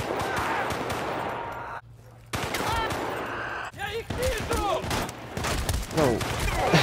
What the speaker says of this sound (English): Just shot through the board in front of him.